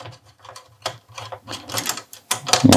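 Screws being backed out of the heatsink clamp on a PlayStation 4 Slim, heard up close as a run of small clicking, ratcheting bursts that grow louder toward the end.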